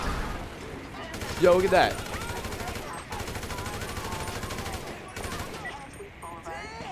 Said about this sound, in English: so if I shoot someone, they should light on fire